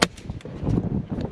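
Sharp gunshots fired at an iguana in outdoor brush: one at the very start, another a moment later, and a third at the end, with rustling and movement between them.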